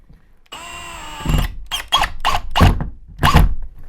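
A cordless power drill fitted with a countersink bit whines up, then bites into a plaster wall in four or five short, loud grinding bursts separated by brief pauses, heard up close without talk.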